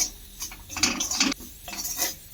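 Spices, including ground cumin, stirred in a pan on the stove: bursts of metal spoon scraping and clinking against the pan come in uneven strokes with short pauses between.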